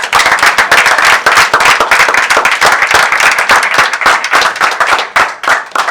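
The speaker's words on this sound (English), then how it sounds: "give a round of applause to our great panelists" A panel discussion audience gives a round of clapping, dense and energetic with sharp individual hand claps close by, sustained for several seconds at even strength.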